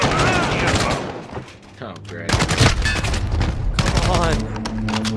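Rapid gunfire from an enemy sentry gun in a first-person shooter video game, loud and sustained bursts with explosive hits, while players talk over it.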